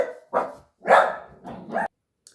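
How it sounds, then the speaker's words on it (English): Dogs barking at someone at the door: four sharp barks in quick succession, fairly close and loud, followed by a brief quiet moment. "I think somebody was at the door and the dogs wanted to have a little bark."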